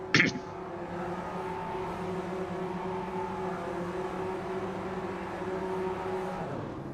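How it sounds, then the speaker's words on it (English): Clubsport race car engines hold steady revs on the starting grid as the lights come on. A sustained, droning engine hum follows a short sharp burst at the start, with no talking. "You can hear the revs are starting to rise as the lights come on."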